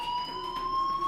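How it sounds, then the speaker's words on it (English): A fire alarm rings in the video game Life Is Strange, a steady high electronic tone held without break for about a second, clear and fairly loud. "Hey, do you hear that fire alarm?"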